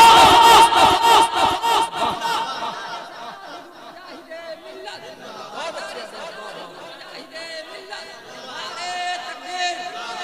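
A crowd at a religious gathering chants slogans back in loud, ragged unison in response to a Naara-e-Takbeer call, the shouts dense at first, then thinning into scattered voices and chatter before swelling again.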